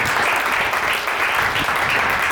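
Church congregation applauding together, a steady dense wash of clapping that holds at an even level throughout with no voices standing out.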